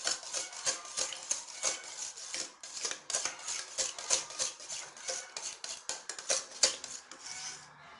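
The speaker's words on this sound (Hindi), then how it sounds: "तो इसको हम सबसे पहले फेंट लेंगे या चम्मच की मदद से ऐसे मिक्स कर लेंगे अच्छे तरीके से" Half a kilo of plain curd whisked in a bowl with a spoon, a busy run of quick metallic scrapes and clicks against the bowl, steady and close throughout with no voices.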